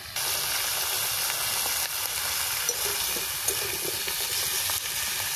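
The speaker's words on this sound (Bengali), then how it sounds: "এখন ভাজা ভাজা হতে থাকে।" Spices with salt and turmeric sizzle steadily in hot oil in a pan, a continuous close frying hiss with occasional small crackles and stirring scrapes, no voices.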